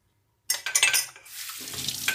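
Dishes, pots and a frying pan being washed at a home sink, with clattering, scraping and running water starting abruptly and continuing close and moderately loud, with no talk.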